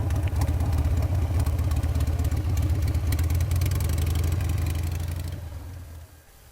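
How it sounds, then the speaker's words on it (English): A motorcycle engine idles steadily in neutral during a riding exercise, a loud, even low rumble close by that fades toward the end, with no talking. "stop and put the motorcycle in neutral to talk with your spotter once per lap"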